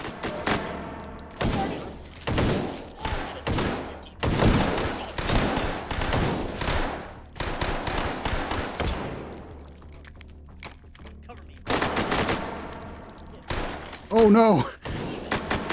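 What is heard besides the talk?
gunfire in VR game Hot Dogs, Horseshoes & Hand Grenades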